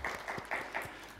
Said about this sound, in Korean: 우리 함께 다 같이 박수로 환영하겠습니다